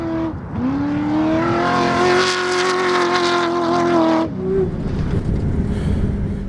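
A 650-horsepower V8 off-road racer revs hard, its engine note climbing and holding loud and close for several seconds before the throttle lifts and it drops back to a rougher, lower rumble.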